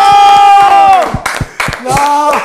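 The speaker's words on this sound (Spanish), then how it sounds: "¡Un aplauso a Pindoche, al cielo!" A live comedy audience bursts into loud cheering and clapping, with whoops and shouts layered over the crowd noise in short surges.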